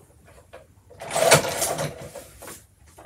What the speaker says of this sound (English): your goal is to punch holes so that they align with the book